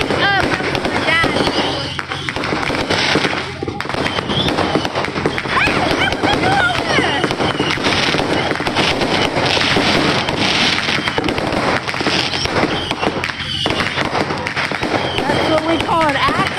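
New Year's fireworks welcoming 2026 burst and crackle nonstop, loud and near, with dense popping and booming volleys throughout while people chat over the noise.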